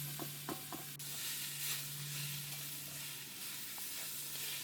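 Banana flower being sautéed in a pan, a faint continuous sizzle with a few light stirring taps early on, over a low steady hum, no voices.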